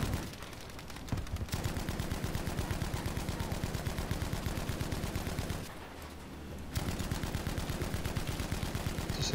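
A machine gun fires in Battlefield V, letting off long, rapid, evenly spaced bursts at close range, broken by one brief pause before the fire resumes.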